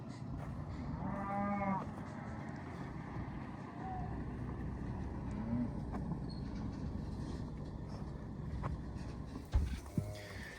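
Cattle on a desert ranch moo a few times at a distance over a low steady rumble, with a knock or clatter near the end, as cows are loaded into chutes.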